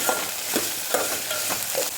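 Oil sizzling steadily as okra sautés in a pan for tamarind curry, with periodic scraping stirs every half second or so, close and fairly loud.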